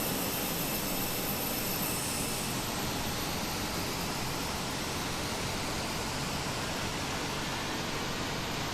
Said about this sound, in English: Go ahead, start up engine number 2.